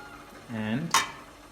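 Fried potatoes and chicken being stirred and served in a village kitchen in Qusar, Azerbaijan: a brief scrape of a utensil, then one sharp clink, then a quiet soft hiss.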